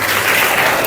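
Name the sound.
crowd applauding at tree planting event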